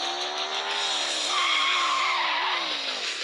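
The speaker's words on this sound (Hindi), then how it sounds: "यार ये गाड़ी ना तो ड्रिफ्ट तो बहुत खाती है" Tires squeal loudly and continuously as a car drifts in a driving video game, a sustained high screech with wavering pitch over steady engine noise, no voices.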